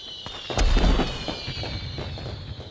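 Cartoon fireworks burst at a celebration, with a loud cluster of booms and crackles near the start followed by a sustained fizzing, crackling trail under a steady high whistle-like tone.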